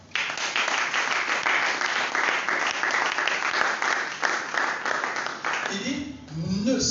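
A church congregation claps in steady, dense applause that goes on for several seconds, loud and close, before a voice begins speaking at the end.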